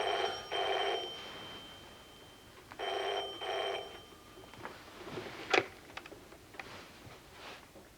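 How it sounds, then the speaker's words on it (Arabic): A telephone rings indoors in two separate bursts of trilling bell tones, each made of a few rapid pulses. Faint ticks and small clicks follow in the quiet room. "مين اللي بيرن دلوقتي ده؟"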